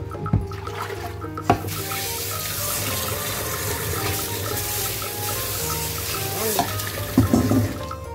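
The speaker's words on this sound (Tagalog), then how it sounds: "Hugasan natin para matanggal din yung asin." Bitter gourd washed under a running kitchen tap, a continuous close water rush with clinks and splashes of handling, a few sharper knocks near the start and end.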